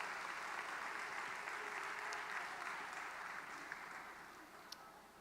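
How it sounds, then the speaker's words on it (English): An audience at the Clark Atlanta University fall convocation applauds students on the Dean's list, a long, sustained wash of many hands clapping in a large hall, fairly distant and even, slowly fading with a few sharper claps near the end. "Loud applause for this excellence,"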